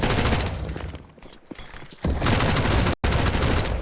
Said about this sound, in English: This is a good shot from Result, but really eager to go hunting for some eco frags after the fact and just get straight up dropped